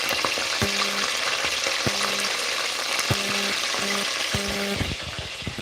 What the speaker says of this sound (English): Oh, we've got some sizzle happening.